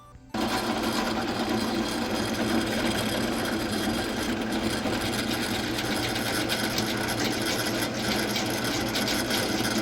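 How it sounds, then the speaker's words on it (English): A steady, loud mechanical whirring starts abruptly and runs continuously, a drill motor spinning at a constant, slow speed with a large drill bit. "when you're drilling with a larger bit, you always want to go a little slower"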